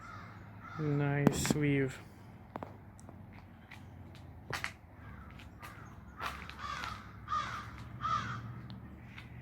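Crows caw in a natural park beside a river, sharp repeated calls near and farther off, with footsteps on a walking trail and someone speaking briefly.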